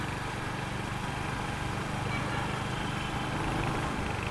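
A Royal Enfield Hunter 350 motorcycle engine running steadily while riding, a continuous even rumble and drone at close range with no voices over it.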